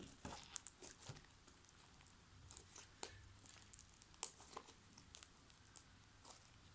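Soft crackling and popping of slime being squeezed, a string of small irregular snaps and crinkles, close and quiet, with no voices.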